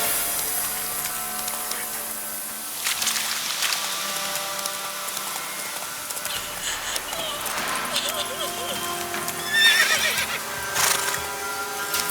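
Roach the horse gallops with a clear whinny and clip-clop hoofbeats in Witcher 3 on the Nintendo Switch Lite, amid game sound effects and background music, with voices heard briefly.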